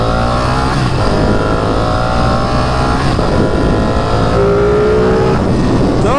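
A Ducati Panigale sport motorcycle revs hard on a spring night ride, its loud engine note climbing and falling through repeated accelerations, close and continuous with no talk.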